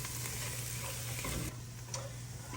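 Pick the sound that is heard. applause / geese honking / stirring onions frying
stirring onions frying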